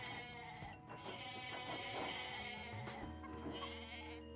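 Goats bleating in the Age of Mythology strategy game, a few short bleats over continuous game music and ambience, moderately clear but not loud.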